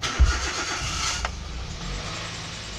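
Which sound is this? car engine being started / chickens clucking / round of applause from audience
car engine being started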